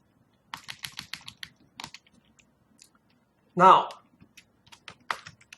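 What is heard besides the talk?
typing on a computer keyboard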